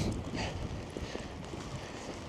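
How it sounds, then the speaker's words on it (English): Strong coastal wind near Kalix, Sweden, buffets the microphone in loud, continuous rumbling gusts that bury everything else. "Oh my God, the wind,"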